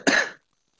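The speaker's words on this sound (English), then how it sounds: "Cough, cough." A single short cough, close and fairly loud, cut off abruptly into silence.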